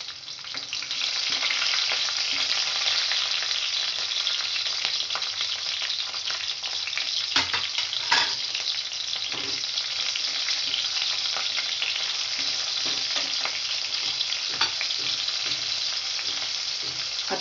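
Garlic slices and green chillies fry in hot oil in a pan for palak aloo, a loud, steady sizzle running throughout, with occasional crackles and stirring scrapes and no talking.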